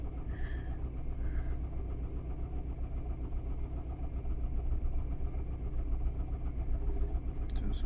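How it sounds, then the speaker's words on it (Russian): A car engine idles steadily with a low, even rumble and faint vibration, continuous throughout with no voices. "Двигатель работает."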